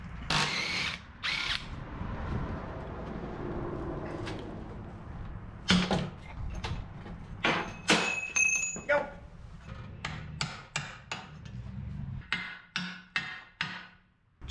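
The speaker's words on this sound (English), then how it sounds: "Next, we zip out the bolts on our cross shafts here." A power tool zips bolts out of the cross shafts on a 1961 Chevrolet Bel Air wagon chassis during a teardown: a series of short, sharp whirring bursts, quickening into rapid repeated hits toward the end, with metallic clinks between.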